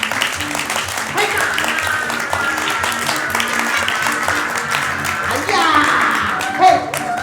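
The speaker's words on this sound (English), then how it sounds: "I'm gonna need some applause for this because I need the power" A show audience at an evening performance claps for a performer, a steady spread of applause that swells near the end, with voices and cheering mixed in.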